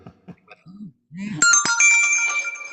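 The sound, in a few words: phone ringtone ringing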